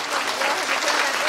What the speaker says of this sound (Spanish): A ese aplauso para el público que se escucha